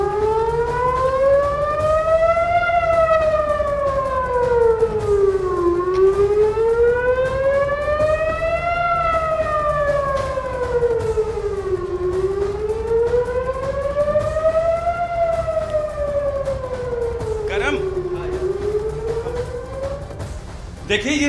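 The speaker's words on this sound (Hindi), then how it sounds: "ये सायरन मिसाइल से पहले बजता है" Civil defense air raid siren warning of an incoming missile during the Israel-Hamas war, a loud wailing tone rising and falling in slow repeated cycles, about six seconds each, steady and dominant throughout with a brief thump near the end.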